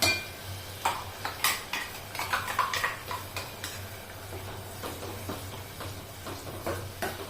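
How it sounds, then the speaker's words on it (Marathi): Ground masala is stirred as it fries in oil over a low flame. A spoon clinks and scrapes against the pan in an uneven, close rhythm over a soft background hum, with no one speaking. "दळून घेतलेला मसाला आहे ना आता छान तेलामध्ये परतवून घ्यायचा"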